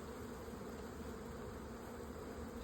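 Honeybees drone steadily at an open backyard hive during an inspection, a dense, continuous buzz that stays close and even throughout, with no voices.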